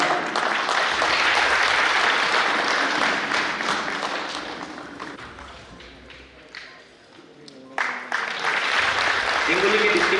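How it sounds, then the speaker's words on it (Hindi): A crowd at a religious gathering's award ceremony applauds in a thick, sustained wash that gradually thins out, with brief swells near the end as a voice starts to speak. "तालियां कम है।"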